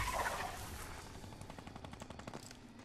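Rapid bursts of gunfire from a distant fight in the video game Fortnite Battle Royale, a dense rattling series of shots heard faintly in the background with no talk.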